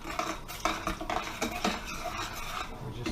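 Berry tart filling, thickened to its set point, stirred in a pot with a utensil: soft scraping and clinking strokes repeat steadily at close range with no talk.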